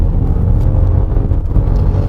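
Loud, dense low rumble from a 2018 Maserati Levante V6 SUV on a winding road, its exhaust burbling steadily off throttle, with some wind noise over the microphone.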